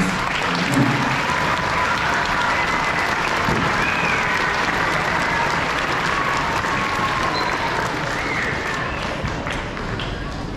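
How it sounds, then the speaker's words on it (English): Audience applause fills a high school orchestra concert hall, a dense, steady roar of many hands clapping throughout, loud and continuous with a faint voice briefly underneath. "So please give a round of applause to all of our orchestra parents."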